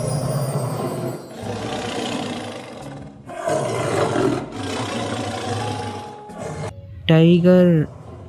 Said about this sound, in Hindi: बाघ